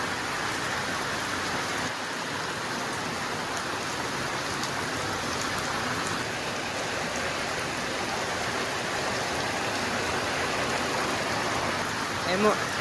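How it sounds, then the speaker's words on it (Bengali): Heavy rain pouring down in a dense, continuous roar that stays steady and unbroken from start to finish. "এখন অনেক জোরে বৃষ্টি নামছে"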